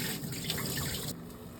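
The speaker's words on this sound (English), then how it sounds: "you're washing the rice until the water becomes clear to get rid of all of that extra starch" Tap water runs steadily into a pot while rice is washed until the water turns clear, a close, even splashing that eases slightly near the end.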